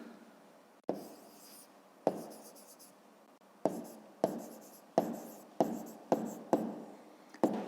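A pen writes in a notebook while working a fifth-grade maths exercise: about ten distinct, close scratchy strokes, each starting with a sharp tap and trailing off, coming faster toward the end, with no talking.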